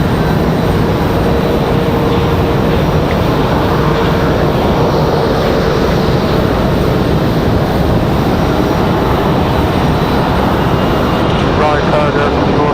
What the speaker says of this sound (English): our next arrival is going to be American Airlines 1904 coming in from Charlotte